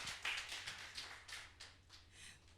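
A short patch of scattered clapping from a television game show studio audience welcoming a guest, uneven and fairly thin, fading in and out over a few seconds.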